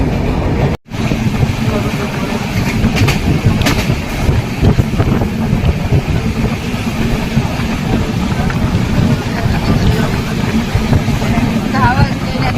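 A train passes Karanjadi railway station on the Konkan line, seen from a halted Madgaon Janshatabdi Express. The sound is a loud, steady rumble and rush mixed with wind buffeting, continuous throughout, with brief speech.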